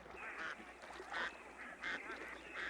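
Ducks quack in a marsh, a drake canvasback among them, with a few short calls that come in quick bursts at moderate distance against a soft outdoor background.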